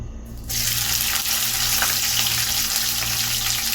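Chopped onions dropped into hot oil with whole spices for a country chicken curry, a sudden burst into a loud, steady close sizzle that continues throughout without any talking.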